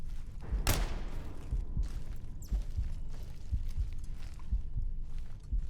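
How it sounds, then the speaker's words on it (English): Heartbeat from the horror video game Shadow Project, set in a secret Soviet laboratory: a faint, slow, regular thumping pulse repeating over a dark low hum, with a brief sharp burst near the start. "Just you hear heartbeat."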